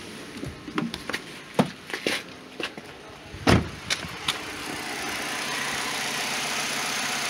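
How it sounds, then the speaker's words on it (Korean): A car engine idles smoothly without misfire or shaking. Several sharp clicks and knocks come first, then the engine settles into a steady, even hum close by. "공전 상태인데 부조가 없습니다."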